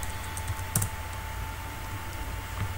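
Someone types on a computer keyboard with a few scattered, quiet key clicks and one sharper tap, heard up close over a steady faint electrical hum.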